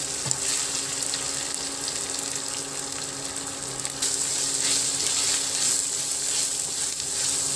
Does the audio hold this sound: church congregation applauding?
no